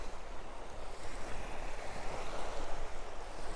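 Waves wash against the Lake Superior shore in a continuous low surging rumble with gentle swells and wind noise, fairly faint and with no voices.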